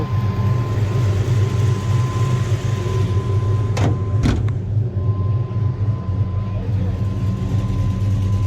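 A car with a swapped LS V8 idles close by with a loud, steady low rumble. Two brief sharp clicks cut in midway.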